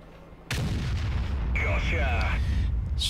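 A tank destroyer's gun fires once in World of Tanks, a sudden loud booming shot followed by a rumbling tail and metallic game effects, with brief speech before it.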